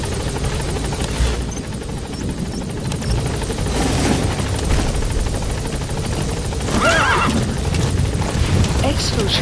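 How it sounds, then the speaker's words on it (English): A support helicopter arrives for extraction in Metal Gear Solid V: The Phantom Pain, its rotor drone filling the scene steadily alongside horse whinnies and hoof clatter, with game voices speaking over it. "Support helicopter. Extraction arrived at the mother base."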